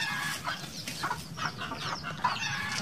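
Native chickens cluck in a coop on a farm, a busy overlapping chorus of soft clucks and calls at close range, continuing throughout with no talking.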